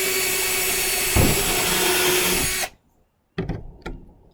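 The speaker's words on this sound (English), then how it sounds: "and then drill that hole." A power drill bores a hole through PVC pipe for a chicken feeder, a steady close whine that jumps in load partway through, stops abruptly, then gives two brief trigger bursts.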